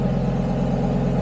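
An Audi RS3 with an engine fault idles close by, giving a loud, steady low rumble with an even, unbroken hum throughout.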